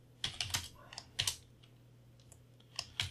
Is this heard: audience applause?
no